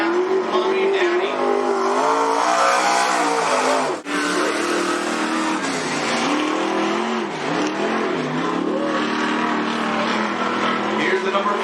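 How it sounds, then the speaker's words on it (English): Late model race car number 44 circles a speedway track, its engine revving and shifting pitch as it passes close and loud for the whole clip, with a brief dip partway through. "Here's the number 44 car from Cottage Road"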